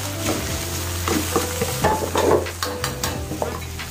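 Tomatoes sizzle and fry in a pan over medium heat while being stirred, with continuous close crackling and repeated scraping strokes of a utensil and no one speaking.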